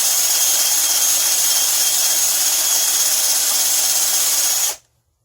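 Wood lathe spinning while a natural edge bowl is sanded, a steady high whine and hiss that runs evenly, then cuts off abruptly near the end.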